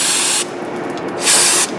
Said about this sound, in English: Clean these spray these little threads out.